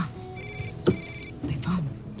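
A telephone rings indoors with a repeating electronic bell tone, heard in short bursts beneath a conversation between people nearby.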